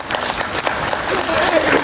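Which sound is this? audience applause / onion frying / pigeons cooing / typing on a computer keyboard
audience applause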